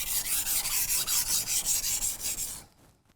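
A knife blade scraped in steady back-and-forth strokes across a sharpening stone while raising a burr, a rhythmic rasping close up with no voices, stopping abruptly near the end.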